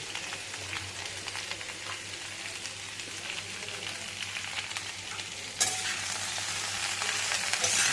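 Mixed vegetable curry fries in a pan while being stirred, a continuous close sizzle with scraping stirs that swells louder and brighter partway through, with no talk.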